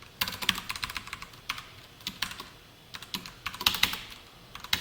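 Rapid, uneven typing on a computer keyboard while writing JavaScript code, with crisp key clicks in quick bursts and short pauses between them, loud and close.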